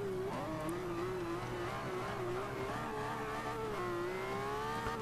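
A race car engine in Forza Motorsport 5 drones loudly and steadily throughout, its pitch rising and wavering as it revs hard under acceleration, with no talking.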